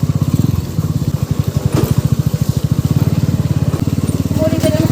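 A motorcycle engine runs steadily after restarting on a mountain adventure ride, a loud, close, rapid throbbing putter, with a voice briefly audible over it.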